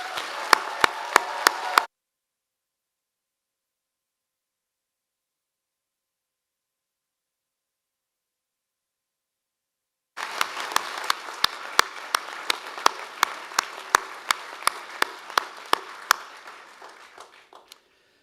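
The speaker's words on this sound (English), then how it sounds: "altogether give all of our new graduates a serious round of applause" Graduating students and guests at a university health faculty ceremony clap in two bursts: a brief patter of distinct claps, a long silence, then a longer round of crisp individual claps that gradually thins out.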